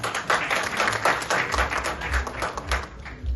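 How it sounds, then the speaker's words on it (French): Audience applause fills a formal opening ceremony hall for the third FIPA festival in 2022. The steady wash of many hands clapping runs continuously throughout at moderate loudness, with no voices heard over it. "Vous méritez nos applaudissements"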